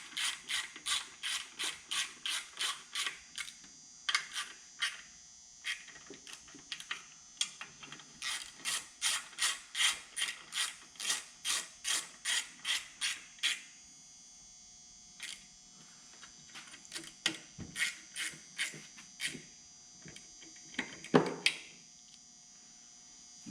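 Rapid ratcheting clicks from a ratchet with a 10 mm socket driving the recoil bolts on an old Jag snowmobile, coming in repeated bursts of quick pawl clicks with short pauses between runs, close and fairly loud, no talk.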